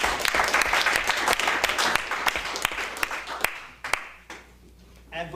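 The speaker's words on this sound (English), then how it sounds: "Please give them a big round of applause." An audience at an evening event applauds loudly, a thick wash of clapping with a few sharp individual claps that gradually tapers off, then a voice starts speaking at the very end.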